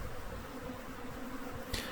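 Honeybee swarm buzzing steadily, a dense low drone at moderate level that holds throughout with no voices, ending in a brief knock or rustle near the finish.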